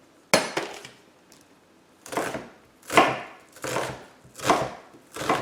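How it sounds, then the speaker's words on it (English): Knife slicing through an onion on a cutting board: five firm, crunchy cuts spaced about a second apart, close and fairly loud, with no talking. "finally slice the onion"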